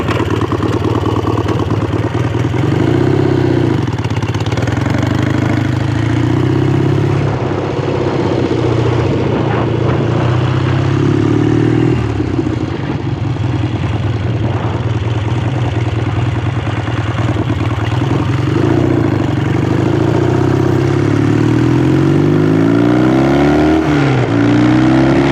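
A Triumph hardtail motorcycle engine runs loud and steady, revving up and down repeatedly with a rough, throbbing note and mechanical clatter throughout, close by and without talk.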